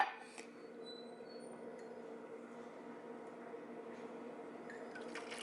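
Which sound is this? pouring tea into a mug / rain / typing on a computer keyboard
pouring tea into a mug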